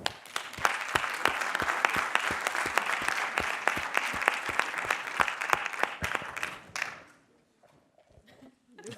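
Applause at a French awards results ceremony, just before the Grand Prix is announced. It comes as dense, fairly close clapping with a few sharp louder claps standing out, and it stops abruptly near the end to leave near silence.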